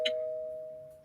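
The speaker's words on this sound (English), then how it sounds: "Jesse, here go your doorbell." A single electronic doorbell chime rings out, a clear sustained tone that slowly fades, heard indoors at moderate volume.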